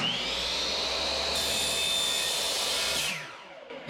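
A Diablo saw blade cuts into a steel turbo manifold for a 3.8 L6, giving a loud, steady high-pitched whine close by, then winds down abruptly near the end.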